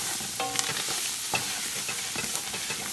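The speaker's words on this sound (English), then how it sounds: "I'm just gonna toss the seasoning around in my roux until it's a little soft." Seasoning is stirred into a roux in a pan for smothered chicken. Soft, continuous scraping and stirring strokes run over a faint sizzle.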